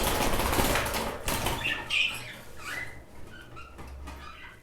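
Birds flapping their wings in a cage, a flurry of rapid fluttering bursts with a few faint squeaks, close and moderately loud.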